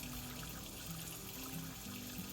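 Water runs steadily from an RV tap with a tankless water heater, a continuous broadband hiss and trickle at close range with no speech over it.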